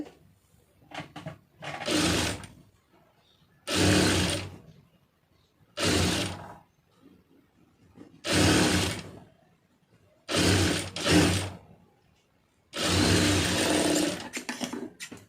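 A sewing machine stitches a lined blouse in six separate bursts of rapid whirring, each a second or two long, with quiet pauses between them, close and fairly loud.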